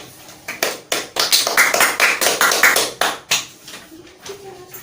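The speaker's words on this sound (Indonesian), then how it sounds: "Tepuk tangan untuk" Classroom applause for a student who answered correctly, bursts of rhythmic clapping in unison, about a dozen sharp claps in quick succession, then fading into a few scattered claps and quiet murmurs.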